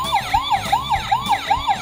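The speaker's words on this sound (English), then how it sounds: "It's a toy ambulance." Toy ambulance siren wailing in a rapid, repeating rise-and-fall sweep, about five cycles in under two seconds, loud and close with a thin electronic tone.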